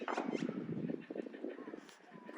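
Geese call in a park, a run of rough, honking cries fairly close and loud, overlapping and repeated across the moment, with a faint outdoor background.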